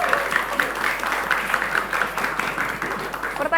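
Scattered clapping from a school quiz-competition audience praising the jury, fairly soft and steady over about three seconds with faint voices mixed in.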